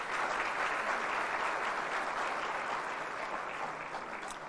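Sustained audience applause fills a conference hall at a regional business summit in Nairobi, loud and dense with steady clapping that holds for several seconds before tapering slightly toward the end.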